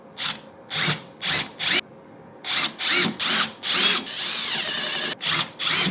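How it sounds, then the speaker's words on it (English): Power drill driving screws into a wooden box for a 48V LiFePO4 solar storage battery: about eight short, loud whirring bursts with brief pauses, ending in one longer steady run. "The screws I'm gonna be using to screw this into the box"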